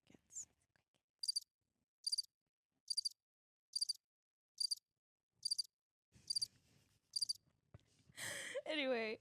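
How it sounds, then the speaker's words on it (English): Cricket chirping sound effect: eight evenly spaced bursts of high chirps about once a second, clear against silence, followed by a brief whoosh at the end. "Where's the crickets?"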